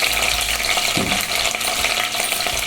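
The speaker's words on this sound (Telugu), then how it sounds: "ఇవి కాస్త బ్రౌన్ కలర్ వచ్చే వరకు వేపుకోవాలి" Green chillies and urad dal frying in hot oil in a pan, a dense, continuous close sizzle and crackle with a brief stir partway through.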